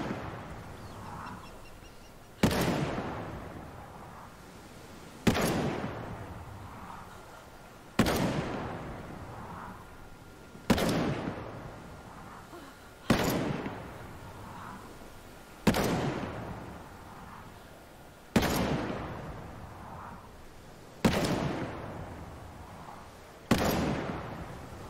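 Ten blasts from an ACS-12 shotgun in Ghost Recon Breakpoint, evenly spaced about every two and a half seconds, each a loud sharp boom trailing into a long echoing decay, with nothing else in between.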